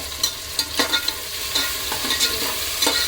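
Tomatoes and masala frying for egg biryani crackle in a pan, while a spoon repeatedly scrapes and stirs through them. The quick, uneven clicks and scrapes sit over a steady sizzle.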